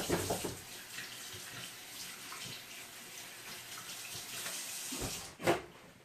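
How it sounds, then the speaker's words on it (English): Hands are washed under a running tap, a steady close splash and hiss of water with brief louder surges as the hands move through the stream. "Let me wash my hands."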